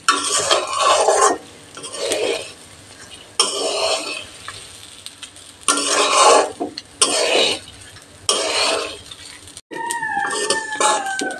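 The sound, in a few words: basmati rice frying and stirred in pan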